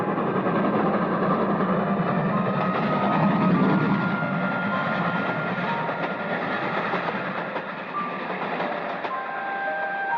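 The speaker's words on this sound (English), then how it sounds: "a brilliantly lighted express train shook the switchman's cabin as it rushed by with a roar like thunder" A brightly lit express train rushes past a switchman's cabin, a continuous, loud, thunderous roar with faint rattling clatter, steady from start to finish and no voices.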